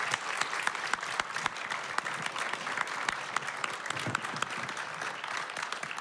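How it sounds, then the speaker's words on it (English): An audience at a Board of Education candidate debate claps steadily, dense overlapping applause filling the room at an even level throughout. "So the biggest applause ever,"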